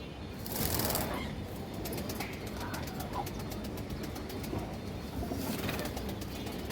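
Pigeons coo in a loft, among them a molting flying-line pigeon, with a low, steady murmur of cooing under broadband background noise throughout.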